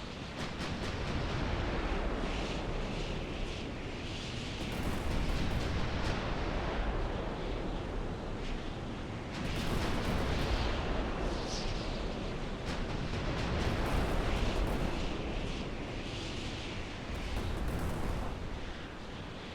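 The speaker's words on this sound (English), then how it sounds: "I'm gonna bombard that turret emplacement" Naval bombardment of a turret emplacement in the video game Carrier Command 2: a dense, continuous rumble of distant explosions with repeated heavy blasts swelling and fading, no talk.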